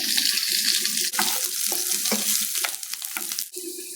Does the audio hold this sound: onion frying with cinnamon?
yes